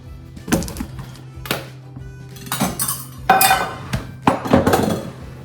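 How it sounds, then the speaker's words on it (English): Peppers and onions go into a hot skillet with olive oil, with a string of nearby metallic clanks, taps and clinks from the pan and utensils in irregular bursts and no talking. "bring over my peppers and my onions and put them in the skillet"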